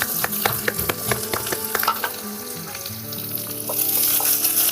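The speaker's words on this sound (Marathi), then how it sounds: "कांदा चांगला आपण भाजून घेऊया." Chopped onions hit a hot pan and fry with a loud, crackling sizzle, punctuated by spatula scrapes and stirring clatter, settling into a steadier hiss with no one speaking.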